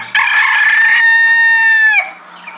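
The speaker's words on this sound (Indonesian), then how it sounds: "ternyata ini adalah ayam jago" A rooster crows once, a loud, close cock-a-doodle-doo held for about two seconds with a bright, harmonic-rich tone, then breaks off into near silence.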